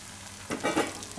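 Tomato and bread crumbs frying and being stirred in a pan for bread upma, a brief soft sizzle with a couple of scraping stirs.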